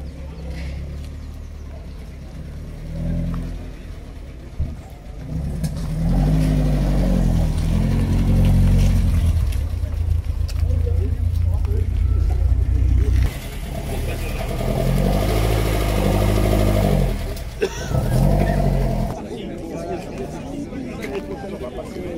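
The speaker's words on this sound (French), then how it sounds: "Le bruit caractéristique de l'Alpha." Vintage Alfa Romeo engine at a classic car gathering, revving in two strong surges over a lower idle, close by, with people chatting around it.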